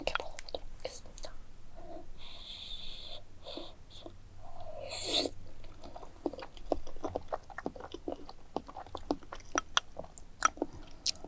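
Soy-braised eggs chewed up close, with soft, wet bites and squishy mouth sounds repeating irregularly, quiet and intimate with no talking.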